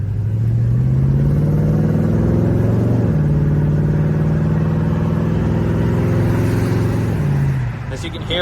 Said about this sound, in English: I would like to let you hear how good the engine sounds, how healthy this car really is